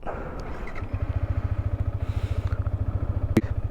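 A Yamaha MT-15 motorcycle engine fires up and settles into a close, steady, rhythmic single-cylinder idle thump, with a brief clatter near the end.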